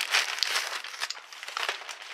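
Plastic packaging for a white S-Line TPU silicone case for an LG Nexus 4 crinkles and crackles up close in quick, irregular bursts while the box is opened.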